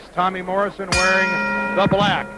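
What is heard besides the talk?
boxing ring bell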